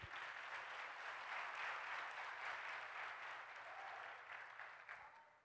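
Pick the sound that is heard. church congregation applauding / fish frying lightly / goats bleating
church congregation applauding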